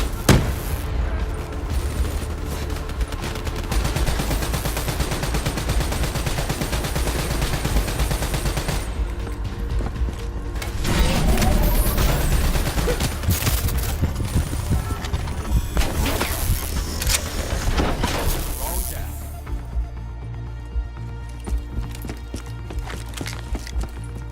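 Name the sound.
gunfire in Call of Duty Black Ops 3 video game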